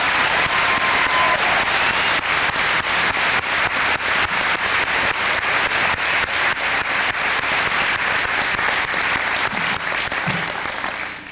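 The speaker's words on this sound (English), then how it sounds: "Please give them a round of applause." Loud, sustained applause for graduates at a 2002 graduation ceremony, a thick wash of clapping from a large audience that stays full and even throughout before easing off slightly at the end.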